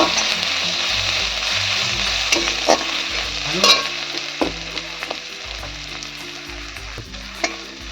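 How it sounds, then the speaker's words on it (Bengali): Grated ginger and chopped garlic fry in a pan, giving a continuous close sizzle with repeated scraping and stirring strokes of a spoon against the metal, moderately loud, with no talk. "এখানে 1 চামচ আদা আর 1 চামচ রসুন কুচি দিয়েছি। আমি গিটারে ঘষে দিয়েছি। সব কিছু ভেজে নেব।"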